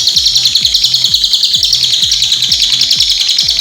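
A pet lovebird chirps steadily in a dense stream of high, rapid tweets, close and loud, with a soft regular low thud pulsing beneath throughout.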